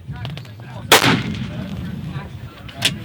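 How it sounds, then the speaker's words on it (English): A single sharp rifle shot at a competition target on an outdoor range cracks loudly up close, followed by a fainter second report near the end, with no talking. "If you want to shoot at a target, feel free, but this is pretty unstable."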